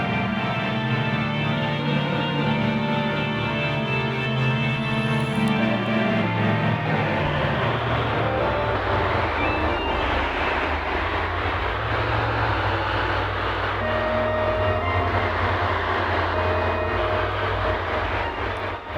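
Self-playing ambient drone synth patch: a dense, loud, continuous wash of layered sustained tones and grainy texture that slowly shifts and morphs, with brief higher notes surfacing, no voices.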